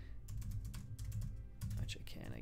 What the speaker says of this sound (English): I'm trying my touch typing, see if I can still do it.